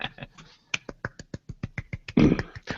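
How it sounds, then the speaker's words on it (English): Soft, polite golf clap, a sparse run of about fifteen light, evenly spaced claps from one or a few people, close and quiet, ending with a slightly louder clap, with no talking. "I got the golf clap."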